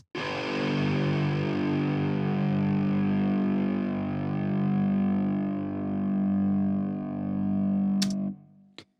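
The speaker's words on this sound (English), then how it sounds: "because we're using different distortions on both the left and the right channel, we're gonna get a really rich stereo sound." A sustained, heavily distorted neurofunk bass synth tone with different distortion on left and right channels, thick and buzzing, holding steady for several seconds before cutting off abruptly.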